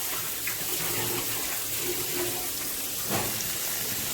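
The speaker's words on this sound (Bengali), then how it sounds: "সামান্য একটু জল আমি এতে দিয়ে দিলাম।" Water pours steadily into spices cooking in a pan, a continuous close splashing rush with a few brief gurgles.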